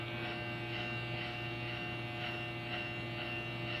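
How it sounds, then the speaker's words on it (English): Electric hair clippers with the blade fully closed run in a steady close buzz while trimming the tips of hair, the motor drone continuous and even with faint rhythmic snips of cutting over the hum. "Now I have the clipper totally closed, so it's actually going to take this off and not leave any softness on these tips"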